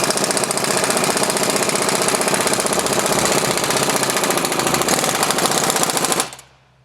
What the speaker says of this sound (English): we're going to go ahead and tighten up all the bolts and